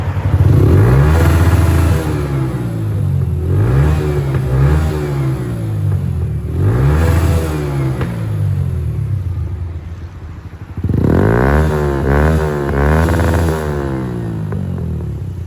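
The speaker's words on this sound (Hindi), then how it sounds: "अभी मैं आपको उसका साउंड चेक कराता हूँ।" A Suzuki GSX-125 motorcycle engine revs repeatedly, rising and falling in pitch through several throttle blips, loud and close with a brief lull before more revving.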